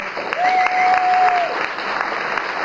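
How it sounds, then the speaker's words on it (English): A conference audience gives a round of applause for the speakers, panelists, moderators and sponsors, a brief wash of clapping under a sustained tone, with a voice briefly present. "Round of applause for all our speakers, panelists, moderators, sponsors, everyone."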